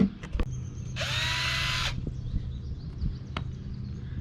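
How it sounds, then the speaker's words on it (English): A power drill bores a pilot hole into a wooden swimbait fishing lure, giving one loud, high whirring burst of about a second amid quiet workshop handling noises. "Got the first pilot hole drilled."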